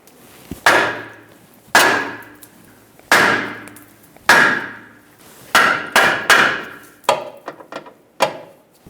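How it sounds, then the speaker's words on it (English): A hammer strikes a car's front lower control arm about a dozen times to break it free, sharp ringing blows on metal spaced about a second apart, then coming quicker in a short flurry near the end. "you can try to tap on the control arm with a hammer and break it free that way"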